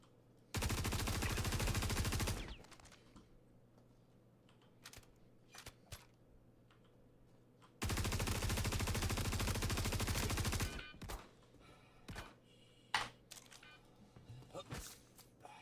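Automatic gunfire in a space shooter video game, two long sustained bursts of rapid fire separated by quieter stretches of scattered single shots and clicks, loud and close.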